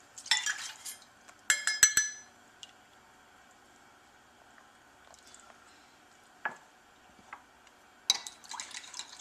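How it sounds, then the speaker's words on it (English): A spoon quickly stirs maple syrup into apple cider in a bowl, giving sparse clinks and light scrapes in short bursts separated by near silence. "Just give it a quick stir just to sort of get that maple syrup combined into the apple cider"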